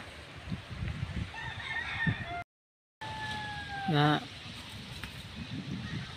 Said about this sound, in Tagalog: Napay manok na